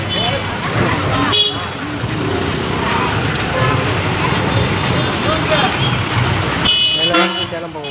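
Busy bus station at Thiruppanandal with a steady roar of idling engines, crowd babble and occasional horn toots, loud and continuous throughout.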